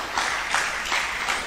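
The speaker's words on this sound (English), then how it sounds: "Please, all the same, let's clap for them." Brief applause from a quiz night audience, a soft, even patter of many hands clapping at moderate distance for the short duration.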